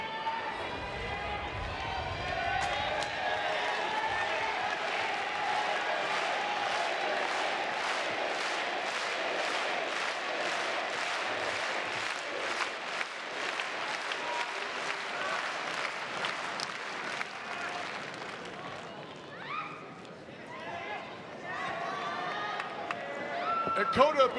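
A wrestling arena crowd claps in a steady rhythm and cheers for the Kenny Omega and Kota Ibushi reunion. The noise is loud and sustained, and a commentator talks over it.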